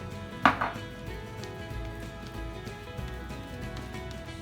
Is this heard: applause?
no